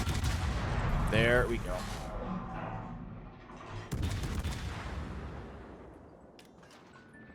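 Heavy warship gunfire booms in a World of Warships naval battle, with a loud salvo early and a second sharp blast near the midpoint, each rolling off into a long decaying rumble while someone talks briefly.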